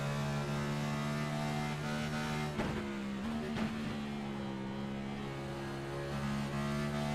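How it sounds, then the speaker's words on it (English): A Cup Series stock car at Sonoma holds a steady, loud engine drone through the esses, its pitch dipping and rising as the throttle is lifted and reapplied, with no voices over it. "just listen to this car, the throttle control that he needs to have going through these S's here"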